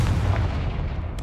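A Confringo spell explosion in Hogwarts Legacy, heard as a dense, loud rumbling boom that fills the short moment with heavy low-end energy.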